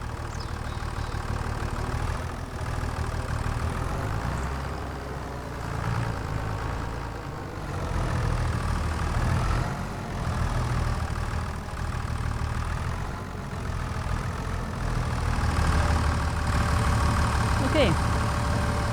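A tractor in Farming Simulator 25 idles with a steady, low, continuous engine drone, moderately loud throughout, with a few faint clicks.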